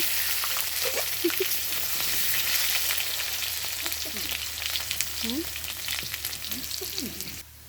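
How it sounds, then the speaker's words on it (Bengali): Potato pieces fry in hot oil in a pan, giving a continuous loud sizzle with occasional soft scrapes and clinks as they are stirred, heard up close with no speech. "আপনারা দেখতে পাচ্ছেন কীভাবে আমি আলুটা ভাজছি"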